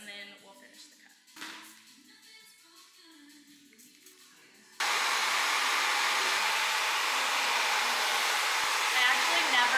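Speech first, then a hair dryer switches on abruptly and blows freshly cut wet hair, a loud steady whooshing roar that fills the remaining seconds close up.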